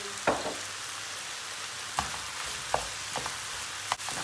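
Tomato paste stirred into vegetables frying in a pan, a soft steady sizzle with a few sparse scrapes and taps from the spoon, fairly quiet and without voices.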